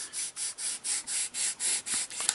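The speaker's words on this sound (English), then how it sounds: "Just light sanding along this edge will give you a much better fit between your stabilizer and your fin." Light sanding strokes along the edge of a model rocket fin, about nine steady back-and-forth rubs in an even rhythm, close and fairly quiet, with no talking.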